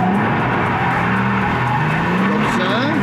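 A car drifting with its engine droning loudly and tires skidding and squealing in a long continuous slide, while a person talks over the noise.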